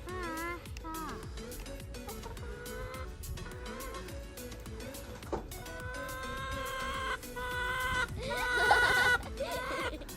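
A hen clucks near her coop on a chicken farm, with steady clucking and other fowl calls close by and growing louder toward the end, mixed with background animal noise.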